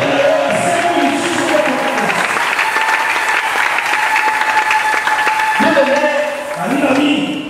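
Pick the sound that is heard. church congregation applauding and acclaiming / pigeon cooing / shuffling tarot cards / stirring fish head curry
church congregation applauding and acclaiming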